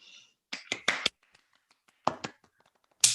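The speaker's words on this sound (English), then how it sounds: "I'd like to invite everyone to unmute and applaud this very interesting talk." Sparse clapping from a few people unmuted on a Zoom call after a Caltech talk, short bursts of separate claps with gaps between them, close and thin, no talking.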